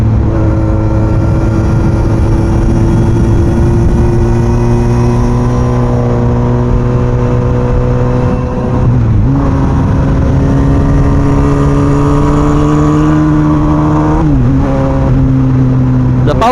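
A 2002 Yamaha YZF-R1 sportbike engine revs loudly and close by, its pitch climbing in long sustained pulls with two brief drops as the throttle eases before rising again.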